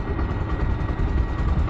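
A Rusi Flame 150 carburetor motorcycle engine runs close by in a brief, steady, loud rumbling burst with no talk.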